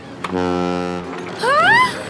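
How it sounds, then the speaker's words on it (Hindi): A long, low, steady boat horn blast sounds for about a second in an animated cartoon, followed by a rising, wavering voice. "ये अपनी बोट का हॉर्न है"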